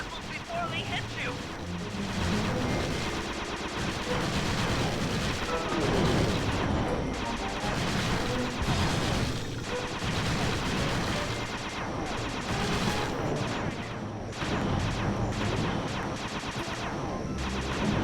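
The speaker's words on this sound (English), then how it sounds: "Now be a team player and take it out with that rusty pre-war turret." Rapid booming gunfire from a rusty pre-war turret shooting down enemy missiles in the Sly 2 video game, loud and continuous for the whole stretch with crashes and blasts layered over a dense game soundtrack.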